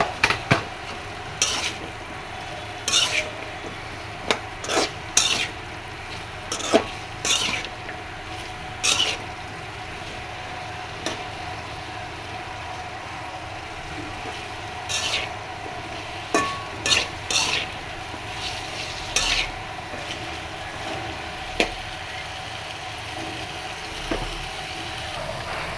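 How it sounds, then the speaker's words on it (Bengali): Taro (kochu mukhi) fries in a pan with a soft, steady sizzle, broken by repeated sharp clinks and scrapes of a utensil stirring against the metal, close by and without talk. "কচুমুখী ছেড়ে দিচ্ছি।"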